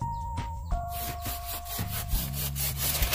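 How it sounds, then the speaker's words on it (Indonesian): A hand saw cuts through a branch of a 20-month-old cocoa tree during pruning, with steady rhythmic rasping strokes, close and fairly loud, with no talking. "kita pakai gergaji."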